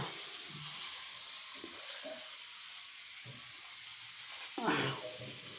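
Prawns cooking in a pan give a faint, steady sizzle, broken near the end by a louder scrape and stir of the pan.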